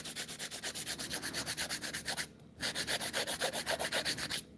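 Light, rapid back-and-forth strokes of a nail file across the surface of acrylic nails, a close, regular rasping rhythm of about five strokes per second with one brief pause partway through.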